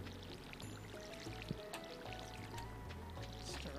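Watering crops in Stardew Valley gives a soft splashing and trickling of water in quick repeated bursts over a steady low game music bed, with no voices.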